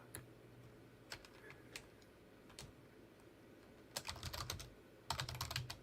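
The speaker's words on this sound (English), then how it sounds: "I hear typing." Typing on a computer keyboard in faint scattered clicks, with a few isolated keystrokes and then two quick bursts of rapid tapping.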